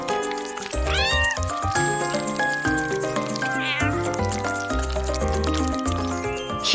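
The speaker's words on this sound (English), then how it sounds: "What a cute little kitten." A kitten mewing repeatedly in a busy setting, its rising cries riding over steady music or a dense background bed that runs throughout.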